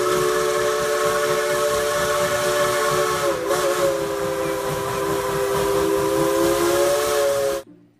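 A toy Thomas train gives a long, steady steam whistle with a hissing edge. It sounds close and loud, holds for several seconds and then cuts off abruptly.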